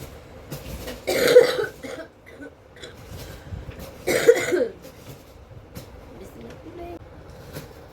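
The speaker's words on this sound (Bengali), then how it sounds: "কাশি হয়েছে না, কাশিটা কমছেই না" Two harsh bursts of coughing from someone with a persistent cough, about three seconds apart, close and fairly loud against a quiet indoor background.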